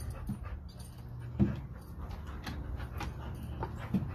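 A dog pants steadily while playing tetherball outdoors, with quick rhythmic breaths close to the microphone and a few soft thumps, fairly quiet and with no voices.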